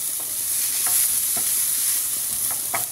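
Onion, seasoned with a pinch of salt, sizzles loudly in a hot pan while a utensil stirs it with light, intermittent scrapes; close and continuous, with no speech.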